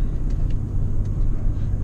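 Inside a Lincoln Navigator L full-size luxury SUV driving along a road, a steady, deep, muffled rumble of road and engine noise fills the cabin with no voices over it.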